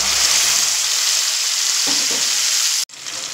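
Spice-tempered oil poured into a hot pan for fig (dumur) chop gives a loud, steady broadband sizzle that holds for about three seconds, then cuts off abruptly before a quieter hiss resumes.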